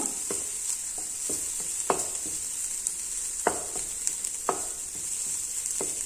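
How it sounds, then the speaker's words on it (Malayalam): Ingredients sautéing in a pan for a milk puttu recipe: a continuous soft sizzle with a series of light, evenly spaced scrapes and taps of the spoon, close and moderately quiet, no voices. "ഒരല്പനേരം ഒന്ന് വയറ്റി ശേഷം വഴറ്റിയെടുക്കാം ഒരുപാടൊന്നും വഴറ്റിയെടുക്കണ്ട"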